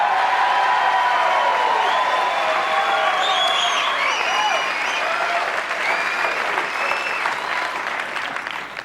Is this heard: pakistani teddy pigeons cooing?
no